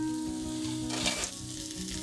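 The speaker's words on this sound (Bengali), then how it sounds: "এবার কাঁকড়াগুলো কড়াইতে দেব।" Crabs fry in a wok of cooked-down spice paste with a loud, constant sizzle, a few soft stirring scrapes over it and a brief flare of hissing midway, with no talk.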